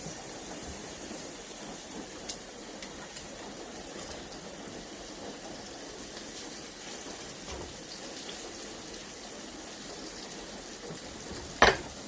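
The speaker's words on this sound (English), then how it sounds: "I'm just going to take my big old pork chop and give it a brown on both sides" A big pork chop browns in a hot greased pan on a stovetop, giving a steady, rain-like crackling sizzle throughout, with a sharper spit or pop near the end.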